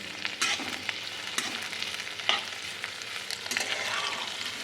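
Onion and cauliflower frying in a pan, a steady close sizzle broken by several sharp scrapes and clicks of a spatula stirring the pieces.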